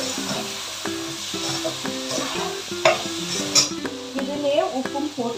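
Turmeric stirred a few times through a hot frying pan, with soft scraping and a light sizzle sitting under prominent background music.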